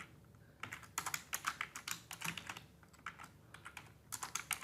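Quick bursts of keystrokes clatter on a computer keyboard nearby, with short runs of rapid taps separated by brief pauses.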